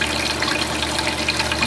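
Water from a top attachment rushes steadily through a gold sluice, washing down material as a continuous broadband splash and hiss.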